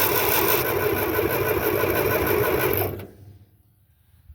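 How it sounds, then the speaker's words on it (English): A Ferguson TO30 tractor engine cranking on a new starter, a fast even mechanical whir held close and loud for about three seconds before it stops. "Let's see what this new starter will do."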